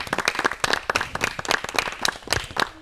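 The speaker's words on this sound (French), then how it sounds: "je vous demande de l'applaudir, Julie" A studio audience on a French television show claps enthusiastically, loud, fast and uneven bursts of many hands close by, sustained without pause throughout.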